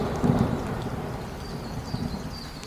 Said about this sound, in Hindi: आज बहुत बारिश हो रही है।